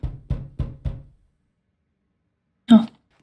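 Four evenly spaced knocks on SpongeBob's pineapple-house door in a Roblox game, close and solid, followed after a pause by a single short vocal burst.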